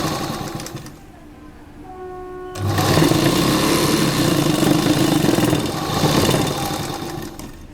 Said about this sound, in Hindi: अब हम ये पूरी सिलाई किनारे से एकदम इसको फोल्ड करते हुए लगा लेंगे